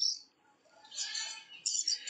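A Dracula parrot, also called Pesquet's parrot, from the jungles of Papua New Guinea gives shrill, rasping screeches in short bursts that are moderately faint, with brief quiet gaps between calls.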